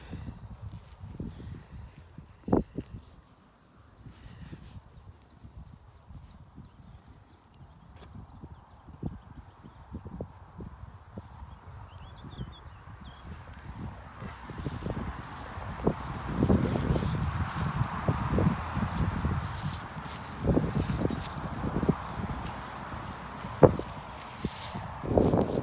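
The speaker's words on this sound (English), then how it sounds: "Very dusty donkey, but she's very thirsty." A dusty donkey's hooves clip-clop in slow, uneven steps, sparse and near at first, then busier and louder with rustling alongside in the second half.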